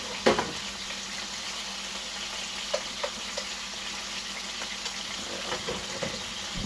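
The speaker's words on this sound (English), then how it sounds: "Grilling away garlic, oil, salt, pepper." Garlic, oil, salt and pepper sizzle quietly on a grill for Philly cheesesteaks, a steady low frying hiss broken by faint clicks and taps.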